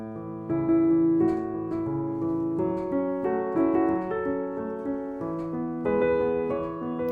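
Piano playing a steady Alberti-bass broken-chord accompaniment, low, high, middle, high notes rolling evenly under a simple melody, moderately quiet.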